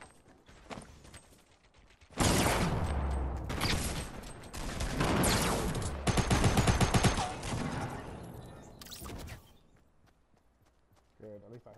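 Bursts of video game gunfire from Fortnite, loud rapid volleys lasting several seconds with pauses between, mixed with in-game sounds while players talk over the action.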